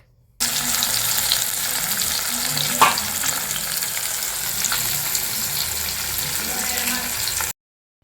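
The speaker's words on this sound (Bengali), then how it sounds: "মাছগুলোকে সুন্দর করে এপিট ওপিট করে ভেজে নিচ্ছি" Fish pieces frying in hot oil and being turned over, a steady loud crackling sizzle throughout with one sharp clatter near the middle, no talking.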